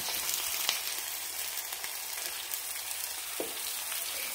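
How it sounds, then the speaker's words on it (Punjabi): Boiled potatoes frying in a pan with garlic and green chilli, giving a steady, close sizzle with small crackles and a few soft stirring bumps, no voices. "ਇੱਕ ਮਿੰਟ ਤੱਕ ਲਸਣ ਅਤੇ ਹਰੀ ਮਿਰਚ ਨੂੰ ਭੁੰਨਿਆ ਆ। ਹੁਣ ਇਹਦੇ ਵਿੱਚ ਉਬਲੇ ਹੋਏ ਆਲੂ ਪਾ"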